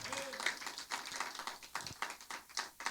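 A church congregation claps during a Spanish-language sermon, dense overlapping hand claps in an uneven rhythm that fill the room, with voices mixed in underneath.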